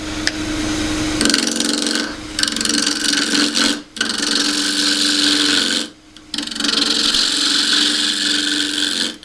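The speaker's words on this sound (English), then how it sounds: "I'll just take the corners off. So I'm back to the 1/2 inch spindle gouge for this." A half-inch spindle gouge takes the corners off a small natural-edge wooden bowl blank spinning on a lathe, a loud continuous scraping rasp broken by two brief pauses as the tool lifts away.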